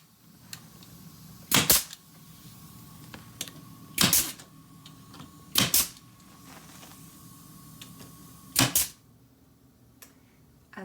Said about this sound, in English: we're just going to tack that in place right now